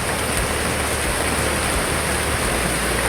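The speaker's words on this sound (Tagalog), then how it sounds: "umulan na lakas ng ulan" Heavy rain pours steadily in a dense, loud, unbroken roar with no voices.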